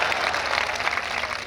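Brief burst of audience clapping at a comedy show, a dense, even patter of many hands that holds steady for a second and a half.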